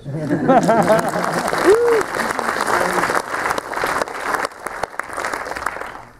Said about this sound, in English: Putting two hands together and making that sound to each other